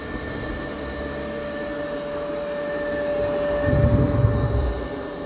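A Yeedi M14 robot vacuum runs steadily on carpet, a constant motor whir with a faint tonal hum, growing slightly louder and rougher toward the end as it works closer by.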